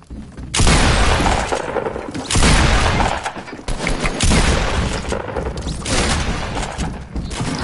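Rapid bursts of gunfire in a shooter video game, loud repeated volleys and booms arriving in waves across the whole stretch, with no clear talk.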